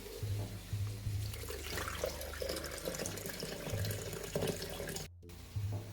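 Water running from a tap into a container holding a chicken stock cube for a chicken and mushroom pie, a steady close trickle and splash with low gurgling, briefly cut off near the end before resuming.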